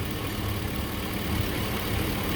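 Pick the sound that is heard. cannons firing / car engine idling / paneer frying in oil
car engine idling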